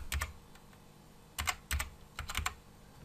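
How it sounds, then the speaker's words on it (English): Computer keyboard being typed on in short bursts of clicky keystrokes, close and fairly quiet, with brief pauses between clusters. "And here we type in our URL,"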